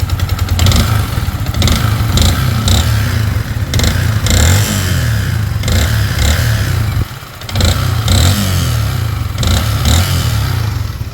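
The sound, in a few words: Yamaha Sniper 155 motorcycle engine running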